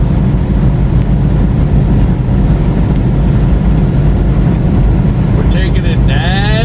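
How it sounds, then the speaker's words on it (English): Strong wind blowing against a microphone, a dense, constant low roar that buffets and overwhelms everything, very loud and close for the whole stretch, with a faint whine rising near the end. "Like I said, this wind is nasty."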